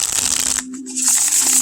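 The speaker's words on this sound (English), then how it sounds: "Love that shuffle on the Llewellyn cardstock." Tarot cards from an indie Oak, Ash, and Thorn deck printed on Llewellyn cardstock with multi-colored edges, riffled in a steady hissing shuffle with a short pause midway, close and fairly loud, with no talking.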